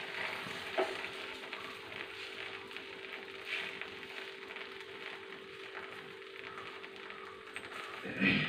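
Milk roti dough is laid on a hot griddle stone and cooks with a steady, soft sizzle throughout, a few faint clicks and brief bumps near the start and end, without talk.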